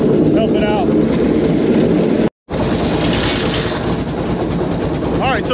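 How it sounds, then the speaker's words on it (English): A Diamondback airboat engine revs loud and steady close by, its roar filling the clip, with a brief cut partway through and faint voices underneath. "Revved up the engine so it could consume more fuel"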